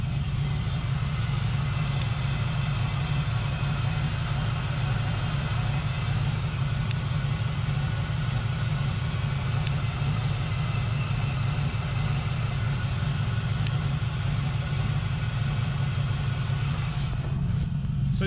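A Mazda RX7 FD fitted with a turbocharged LS V8 and a light turbo cam idles with a steady low rumble. The engine is misfiring on one cylinder. The sound is continuous and close, and stays even throughout.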